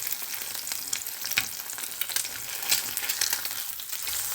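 An egg frying in a small amount of oil, a dense, continuous crackling sizzle with bursts of popping spatter, heard up close and steady throughout with no voices.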